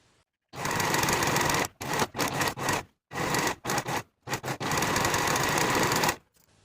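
Sewing machine stitching the shoulder seams of a satin blouse, running in several loud close bursts of rapid stitching separated by brief pauses, with one long continuous run near the end.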